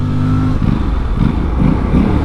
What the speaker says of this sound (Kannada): ಸೌಂಡ್ ಚೆನ್ನಾಗೈತೆ ಇದು ನೋಡಿ ಆ್ಯಕ್ಚುಲಿ ಬ್ಯಾಕ್ ಫೈರ್ ಎಲ್ಲ ಹೊಡೆಯುತ್ತೆ ಇದರಲ್ಲಿ